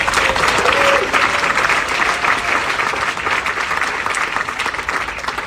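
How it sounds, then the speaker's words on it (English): A large audience at an evening community event applauds its sponsors, a dense, loud and sustained wash of clapping that lasts several seconds and eases only slightly at the end. "Please join me again in a big round of applause for all the sponsors."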